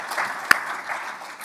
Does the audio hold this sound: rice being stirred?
no